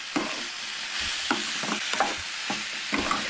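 Onion, tomato, ginger and garlic sauté in a pan, a soft continuous sizzle with regular scraping stirs and light clinks from a spoon. No voices are heard.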